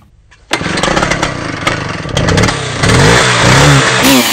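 A seven-year-old Husqvarna chainsaw, unused for a couple of months and primed, catches on a pull and fires up close by, settling into a loud, steady two-stroke idle that rises slightly as it runs.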